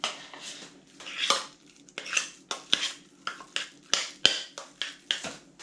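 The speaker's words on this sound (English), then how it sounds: "And stir those round well." Pulses are stirred with salt and a dash of wine vinegar in a bowl, making rhythmic scraping clinks about twice a second, close and steady, with quiet gaps between strokes.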